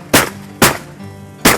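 Three sharp shotgun blasts ring out during a duck hunt, spaced unevenly over under two seconds, each loud and close with a quick decaying tail.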